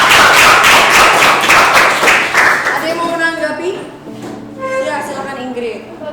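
A classroom audience claps briefly at a school lesson, loud and close at first with dense rhythmic hand claps, which fade after about three seconds as people begin talking.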